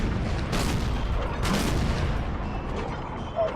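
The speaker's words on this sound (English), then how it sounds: "It's heavy artillery." Heavy artillery bombardment in Napoleon: Total War during an online battle, a steady roar of distant cannon fire with a couple of louder booming blasts rising out of the din.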